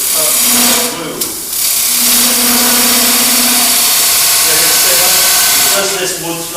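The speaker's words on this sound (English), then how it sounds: "3/8 gouge again, up on edge to make the initial cut move." A 3/8 gouge cuts wormholed wood spinning on a lathe, giving a steady loud hissing shear over the motor's hum, close by, while someone speaks over it.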